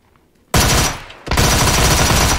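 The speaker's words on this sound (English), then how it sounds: "Oh no, they're still shooting at you." Gunfire in the video game PUBG: a sudden loud burst of automatic fire, a brief dip, then a second sustained volley, close and harsh, with no voices.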